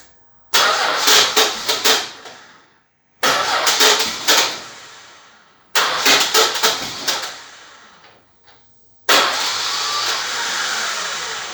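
A Dodge with a 265 Hemi engine cranking three times in short bursts, each with loud rhythmic starter chugging and sputters cutting off into silence, then a fourth crank catches and the engine keeps running steadily, close and loud.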